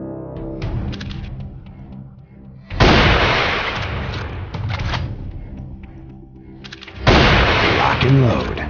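Gunfire at target practice in the mobile shooter Rival Fire: two loud sustained bursts of rapid shots with a shorter spell between them, mixed with game effects and voices.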